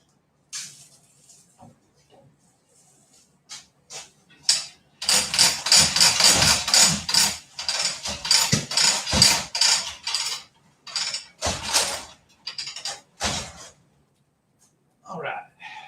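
Hand tool working on car wheel lug nuts in a garage, heard as bursts of metallic ratcheting and clicking in clusters, with pauses and a person talking between them.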